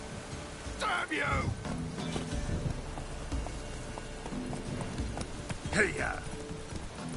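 Horse hooves clip-clop at a gallop in The Witcher game on PS5, rhythmic thuds under a rider's shout and a few other voices, with a soft rainy background.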